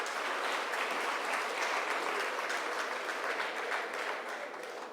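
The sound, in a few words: applause at closing ceremony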